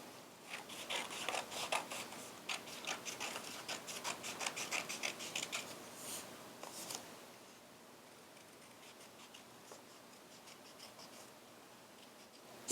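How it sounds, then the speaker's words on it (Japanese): Scissors snip through traced craft pieces with quick, close, repeated cutting and rustling for several seconds. The sound then fades to faint handling. "3枚写し取ったら切っていきます"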